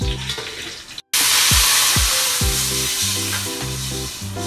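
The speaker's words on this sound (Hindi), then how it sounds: "अब इसमें हम पानी डालेंगे।" Water is poured into a hot pan of dal tadka with whole spices like cinnamon stick, cloves, cumin and black pepper, setting off a sudden loud, continuous sizzle after a brief silence.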